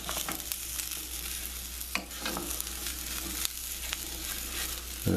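Chicken and Israeli couscous brown in a hot pan, a soft continuous sizzle broken by scattered crackles and the scrape of stirring, fairly quiet and with no talk.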